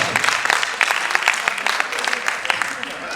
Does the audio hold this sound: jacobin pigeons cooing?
no